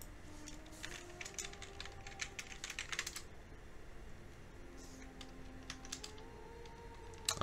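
Quiet bursts of typing on a computer keyboard come in quick clusters of key clicks, with soft game music running underneath.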